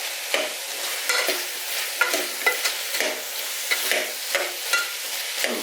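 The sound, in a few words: stirring kohlrabi and potato with garam masala in pan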